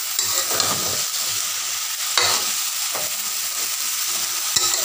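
Ridge gourd going into a hot pan with salt and ground poppy seed paste blended with green chilli, stirred and frying with a steady close sizzle and occasional scraping stir strokes, no talking.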